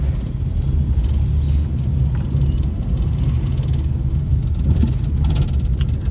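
A car is driven along toward a CNG fuel pump, heard as a steady low engine and road rumble from inside the vehicle, continuous and moderately loud with no talking.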